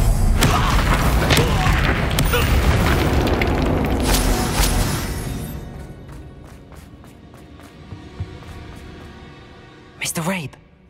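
A Confringo fire-blast spell explodes in the Hogwarts Legacy video game with a loud booming burst amid heavy combat noise, then the noise thins out and one sharp whooshing blast comes near the end.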